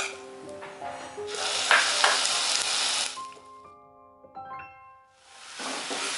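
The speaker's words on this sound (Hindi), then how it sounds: "तब तक हम प्याज को अच्छे से भून लेंगे" Ginger, garlic and onion paste frying in hot oil in a home kitchen while rajma masala is made, a loud steady sizzle broken by stirring clinks and brief pauses.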